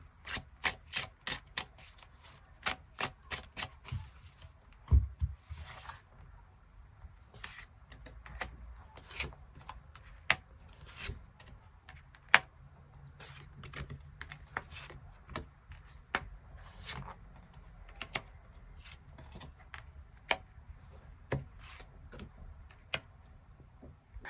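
Tarot cards are shuffled and drawn in a quiet room, with crisp, light card clicks and flicks coming in quick bursts and then in sparser taps, close and fairly soft.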